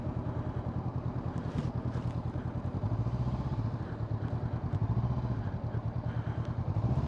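A motorcycle engine at low speed during a slow U-turn on a riding practice ground, a steady, pulsing, close putter that rises slightly in pitch midway and then settles, continuous throughout.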